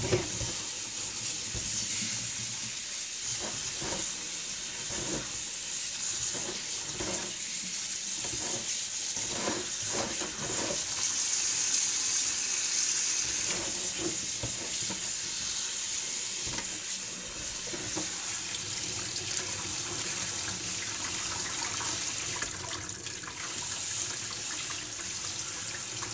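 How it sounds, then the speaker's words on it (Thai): Running water splashes over garlic being washed, a continuous hiss with intermittent sloshing and handling clatter, with no talk. "เสร็จแล้วเราก็เอาไปล้างน้ำค่ะล้างน้ำให้สะอาด"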